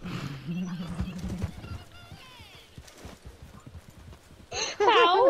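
Horse in the Red Dead Redemption 2 video game, with hoof clip-clop and a whinny near the end, heard under excited talk and game sounds.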